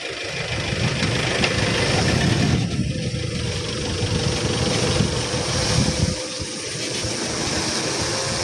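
A drone flies overhead during firefighting surveillance, giving a steady loud whirring rotor drone that holds for the full stretch with slight swells, no voices over it.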